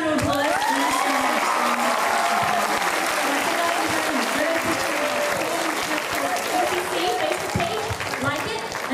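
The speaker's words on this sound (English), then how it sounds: "Can we get you 10 round of applause?" An audience at a church coalition event for North Korean freedom applauds steadily for several seconds, with cheering and voices mixed into the clapping.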